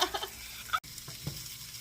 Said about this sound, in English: Just stir it around.